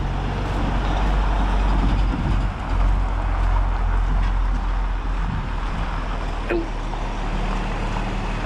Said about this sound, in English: Oh, I love that nice looking tractor.